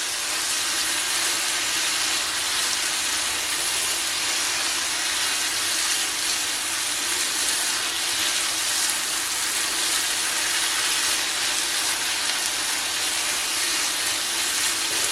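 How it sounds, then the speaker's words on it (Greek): Tomato paste with a little sugar sautés in a single pot for a one-pot orzo dish with cherry tomatoes, giving a steady, loud, unbroken sizzling hiss with no talking. "αφήνετε λιγάκι να σοταριστεί ο πελτές που βάλαμε για να βγάλει τα αρώματά του"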